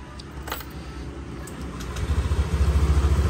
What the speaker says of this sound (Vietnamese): Để em nổ máy cho quý cô chú mình nha.